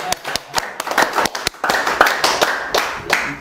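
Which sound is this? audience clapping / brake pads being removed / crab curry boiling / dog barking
audience clapping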